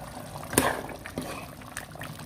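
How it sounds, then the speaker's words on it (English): Carrot and potato pieces dropped into a pot of liquid for a beef kidney dish, one sharp splash followed by softer liquid sloshing and bubbling, fairly close. "Guys, I'm going to put in my carrot and my potato now."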